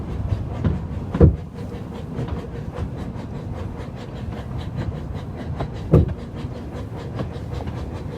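Steady rumble of a train on the Llanberis Lake Railway rolling along rails past the National Slate Museum, with a rhythmic clatter and two louder knocks of wheels over rail joints.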